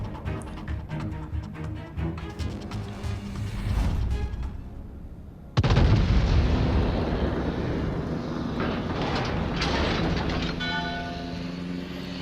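Naval guns of the USS Massachusetts fire a salvo in World of Warships, a sudden loud booming blast that gives way to a long, heavy rumble over steady engine drone.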